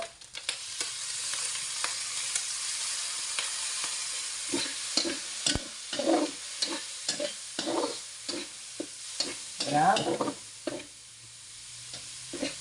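Food sizzles and fries in a pan after soy sauce is added, with a steady hiss under repeated scraping stirs of a utensil that come in irregular bursts, close and fairly loud, with no talking.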